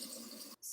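Hands being washed under a running kitchen tap while cookie dough is made, a close, steady splashing stream that cuts out briefly near the end and then resumes.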